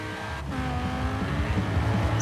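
Vintage Bentley 8 Litre in Forza Horizon 4 oversteering through a bend, its engine a loud, close, rising drone with a brief dip in the first half-second and faint tyre scrubbing toward the end, no speech.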